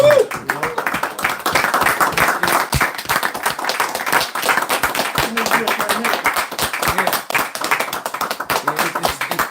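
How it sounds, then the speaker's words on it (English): A group claps their hands in a rapid, uneven rhythm that continues throughout, crisp and fairly close, while voices talk over and between the claps. "Hand claps, man"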